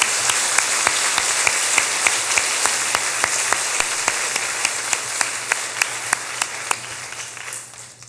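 A church congregation claps in unison during a Sunday afternoon worship service, a steady rhythmic beat of sharp claps, roughly three per second, over a hum of room noise that trails off at the end.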